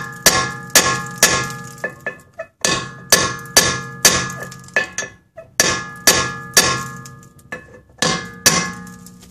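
Hammer striking rusted Phillips screws on a Honda Accord rear brake assembly, sharp ringing metallic clangs in steady groups of blows with brief pauses, close and loud.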